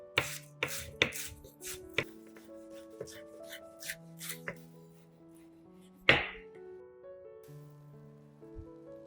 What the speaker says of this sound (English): I chop some green onions and sprinkle them on top